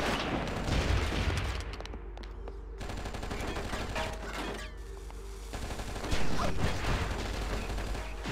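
Enemy gunfire in the video game Oni, with dense rapid bursts of shots and sharp impacts running almost the whole time, loud and close, and a brief quieter gap partway through.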